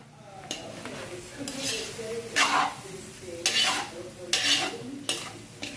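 Vegetables being sautéed in a pan, with a spatula scraping and stirring in a steady rhythm of about one stroke per second over a soft sizzle; a voice is faintly audible underneath.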